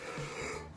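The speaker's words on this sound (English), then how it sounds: "Sorry for the yawns, guys." A long, breathy wheezing yawn late at night, close and quiet, with a drawn-out groaning tone.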